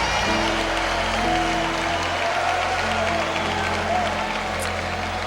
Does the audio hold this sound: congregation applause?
yes